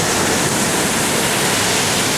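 Ocean surf at a Puerto Rico shoreline roars as a dense, loud, steady wash of broadband noise, heard close with no voices over it.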